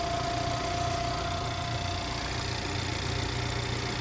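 A 1.6-litre turbocharged petrol car engine idles steadily close by, a constant low mechanical purr with a faint whine, unbroken for the whole stretch.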